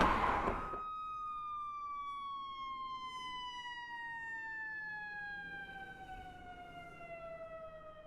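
An ambulance siren wails nearby, its steady descending tone sliding slowly downward as it pulls away, with a faint rumble of traffic beneath and no talk.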